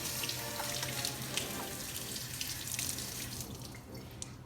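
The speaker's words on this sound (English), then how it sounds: "Before we start, the main thing is we have to wash our hands." Hands are washed under a running tap, with steady water splashing and pouring into a sink, fairly quiet and continuous.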